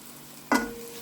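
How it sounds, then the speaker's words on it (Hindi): Onions hit hot oil in a pan for a home-style cauliflower and chicken curry, and a sudden sharp sizzle bursts out midway, then settles into a steady, softer crackle, close by with no talking. "प्याज को लाइट ब्राउन करेंगे, फिर इसमें लहसुन और अदरक शामिल करेंगे"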